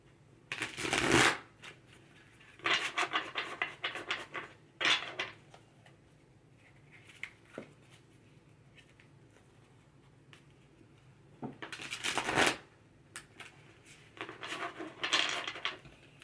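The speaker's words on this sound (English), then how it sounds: "Let's shuffle." Tarot cards shuffled by hand in several separate bursts of riffling and flicking, close and fairly quiet, with short pauses of near silence between bursts.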